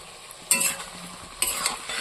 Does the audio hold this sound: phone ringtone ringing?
no